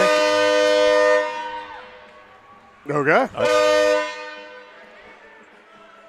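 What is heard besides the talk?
train horn from a passing train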